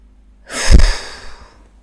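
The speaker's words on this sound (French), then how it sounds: "Et quand nous le voulons, nous soufflons." A single forceful exhale during a guided sophrology breathing exercise, a close, breathy rush of air swelling and fading over about a second in otherwise quiet surroundings.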